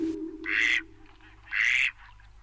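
Ducks and geese in a rural mountain farmyard give two loud, nasal quacking calls about a second apart, close by, over a low steady hum.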